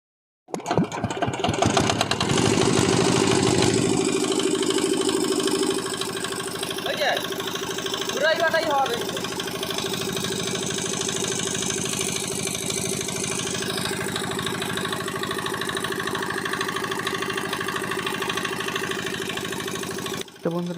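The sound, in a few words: diesel engine starting and running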